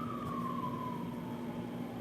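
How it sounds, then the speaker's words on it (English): A police car siren sounds outside on a city street in Boston, a loud, steady tone slowly sliding downward over a dense traffic rumble, continuous and unbroken for the whole two seconds. "police car going,"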